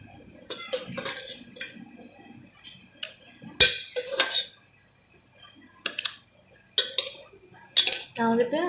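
Mixed cut fruit pieces are tipped and spooned into a bowl, giving close sharp clinks and taps of cutlery against dishes in scattered bursts with quiet gaps between them.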